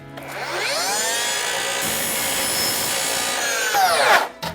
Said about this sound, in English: make a bunch of cuts at once